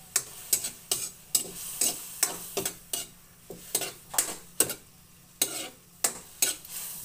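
A utensil stirring squid and vegetables in a pan for ginataang pusit, with a rhythmic series of sharp scraping clicks against the pan, close and regular over a faint sizzle.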